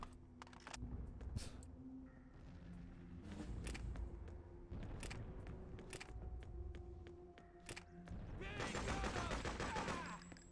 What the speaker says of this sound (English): At least I can actually shoot people.